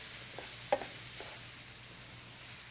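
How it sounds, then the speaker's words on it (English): Ground beef sautéing in a skillet until the pink is gone, a faint steady sizzle with one sharp clink of a utensil near the start and a few soft stirring scrapes. "I'm going to saute the meat in the skillet until all the pink is gone"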